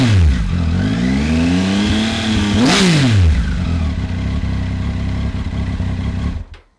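A loud, deep Triumph Tiger 800 XCa motorcycle engine, exhaust baffle removed, revs up, peaks, and drops back to a throaty idle before cutting out. The exhaust is bassy and rumbling, and no one speaks.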